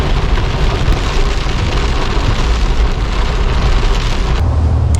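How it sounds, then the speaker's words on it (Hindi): Heavy rain pours down steadily during a road journey near Brasov, Romania, a loud, dense hiss of drops drumming on surfaces, continuous and unbroken, with a low rumble rising near the end. "बहुत तेज बारिश शुरू हो गई"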